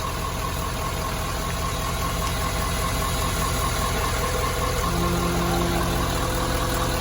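A Ford F250 truck engine idles steadily with a constant low rumble and mechanical vibration, close by and without talk, a faint tonal hum entering near the end.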